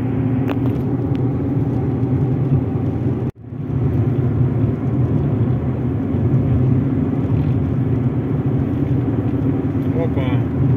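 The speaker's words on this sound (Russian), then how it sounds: "Всю дорогу переметает, едем с ним большой скоростью." A car speeds along a snow-drifted road, its steady, loud engine and road rumble continuing throughout with one brief dropout near the start.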